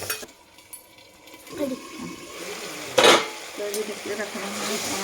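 Water poured into a tomato-based rohu fish curry with taro, followed by soft bubbling and clinks of a pan; a short splash stands out midway, all fairly quiet.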